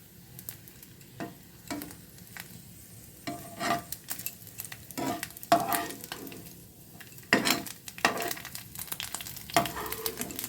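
Chopped coconut fries in oil in a pan, a soft continuous sizzle broken by repeated scraping and stirring strokes of a utensil against the pan, close and moderate in level, with no talk.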